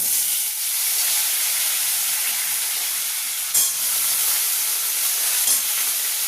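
Radish and potato pieces hit hot mustard oil tempered with cumin seeds, producing a steady, loud hissing sizzle with a couple of brief bumps from stirring or shifting pieces.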